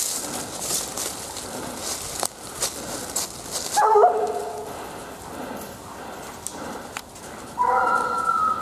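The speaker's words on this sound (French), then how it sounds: "On a une meute de chiens de chasse qui courent" A pack of hunting hounds yelps and bays in two short bursts while running around construction machinery at a hunt with hounds, over a rustling outdoor background with scattered thumps.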